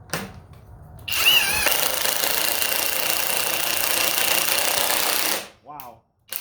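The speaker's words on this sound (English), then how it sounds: "The impact didn't even start till it's halfway down." A cordless high-torque Milwaukee or Ridgid impact wrench runs in one loud, continuous rattling hammering burst of about four seconds. It follows a quieter start, and a brief voice is heard after it stops.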